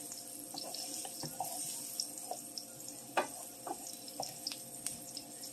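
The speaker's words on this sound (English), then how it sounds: "I'm going to add about a quarter cup of water onto the frying pan now that the onions are starting to caramelize." Water hits a hot frying pan of caramelizing onions, giving a soft watery hiss and sizzle with scattered crackles and pops, fairly quiet and close, with no speech.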